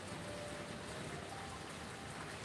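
Steady rain falls on a day when an outdoor market was rained out, making a dense, even hiss of drops that holds unchanged throughout, fairly quiet and with no voices.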